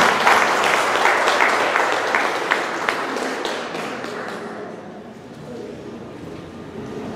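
An audience at a public meeting on mudslides in Chosica breaks into brisk applause with distinct individual claps, strongest at first and gradually tapering off.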